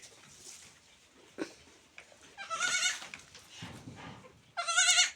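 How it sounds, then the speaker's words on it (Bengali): Young goat kids on a farm, kept indoors in cold winter weather, let out high, wavering bleats, two clear calls close by over faint background rustling and shuffling. "ছাগলের বাচ্চা।"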